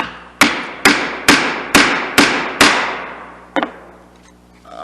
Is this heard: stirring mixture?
no